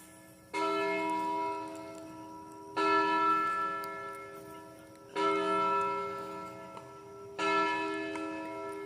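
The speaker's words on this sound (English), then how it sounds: "The bell is ringing at the church." A church bell near a creek rings at six o'clock, four resonant strokes spaced about two and a half seconds apart, each one ringing out and slowly fading, heard from a moderate distance in quiet outdoor surroundings.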